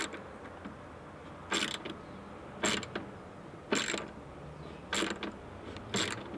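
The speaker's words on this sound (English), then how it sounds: "So now we're just gonna grab our tool and bolt it down." A hand tool bolts down a nut and washer on a Pelican V730 case storage mount for a Toyota Tacoma, five evenly spaced ratcheting bursts, close and quiet.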